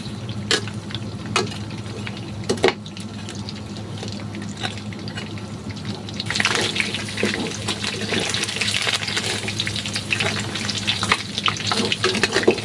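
Pork adobo fries and toasts in plenty of oil, a steady dense sizzle with occasional stirring clatters, growing louder and more crackly in the second half; no talking.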